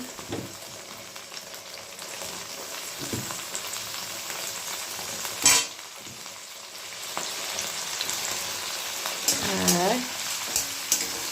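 Cauliflower florets frying with onions and curry leaves in a pan for chire pulao, a steady close sizzle with stirring scrapes throughout and a louder clatter midway, no talk.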